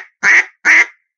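Two loud, close quacks from a duck call used for waterfowl hunting, each a short raspy blast separated by a brief pause, with nothing else heard.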